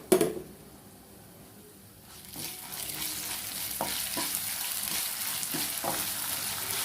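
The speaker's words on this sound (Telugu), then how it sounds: "అల్లం వెల్లుల్లి పేస్ట్లో నుంచి మంచి అరోమా వచ్చేంత వరకు ఫ్రై చేసుకోవాలండి" Ginger garlic paste fries with golden onions in a pan for a carrot and beans fry, a sharp clatter opening before a steady sizzle builds, with scattered stirring scrapes over the continuous frying hiss.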